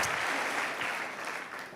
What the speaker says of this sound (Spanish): el aplauso va para ustedes